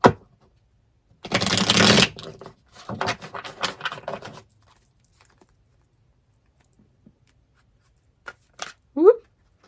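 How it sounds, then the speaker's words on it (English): Brisk papery riffling of tarot cards being shuffled in two bursts, the first louder and denser, then quiet with a couple of faint rustles at the end. "let's get a good shuffle going on."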